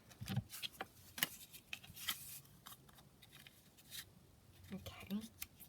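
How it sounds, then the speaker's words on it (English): Scissors snip and trim paper cut from old book images for a journal. The cuts are soft, brief and scattered, with rustling paper between them and a voice talking quietly over the work. "Just trim that across the top."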